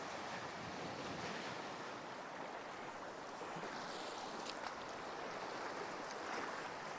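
Sea waves wash in continuously along the shore at Vakarai near Batticaloa, a dense, steady surf roar mixed with wind noise and no voices.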